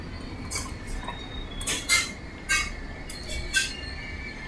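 A train pulling into a station, its wheels squealing in several high-pitched bursts over a steady background rumble, moderately loud and without voices.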